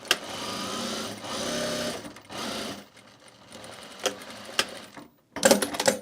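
A sewing machine stitches a self-drafted bag in several loud, close bursts of rapid mechanical clatter, broken by short pauses. Sharp clicks and handling noises come near the end.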